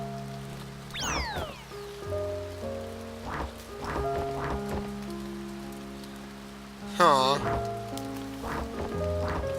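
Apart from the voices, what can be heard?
rain falling in the video game A Bird Story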